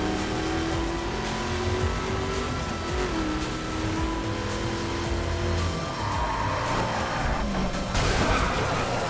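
A car in the video game The Crew drives through Las Vegas at night. Its engine drones steadily throughout, with pitch rising and falling through gear changes and a brief burst of tire or impact noise near the end.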